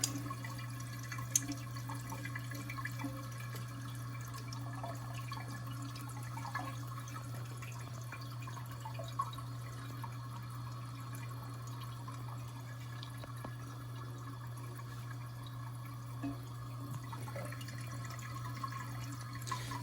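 Water flows steadily into a Mansfield toilet tank through a newly installed Fluidmaster fill valve, a faint continuous trickle with a constant low hum and no talking.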